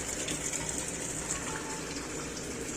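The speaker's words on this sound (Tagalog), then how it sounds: "nagkarga po ulit siya ng tubig" A Panasonic Aquabeat automatic washing machine with a U12 error fills with water in a steady, close gushing rush that holds at an even level throughout, with no talking.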